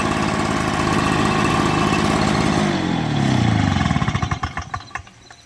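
Fradan BB-51 backpack leaf blower engine running steadily, a loud close two-stroke drone that drops in pitch and sputters down toward a slow idle and shutdown at the end, with no talk.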